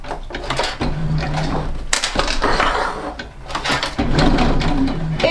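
A domestic sewing machine runs steadily and loudly at close range, stitching fabric around a small Christmas-tree-shaped pouch, with brief pauses and changes in pace.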